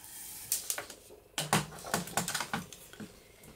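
A paper trimmer cuts paper for a junk journal, with a series of close, sharp clicks and scraping slides, irregular and moderately loud in a quiet room with no talk.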